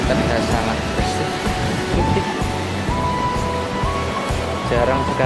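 Waves washing steadily onto Pudak beach, a continuous broadband surf roar with no clear breaks, fairly loud and close.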